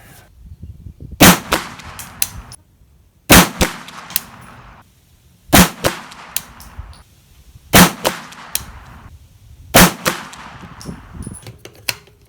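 Five loud, sharp shots from a PSA AKV 9mm fired at spaced intervals of about two seconds, each crack followed by a short echo and fainter handling noise in between.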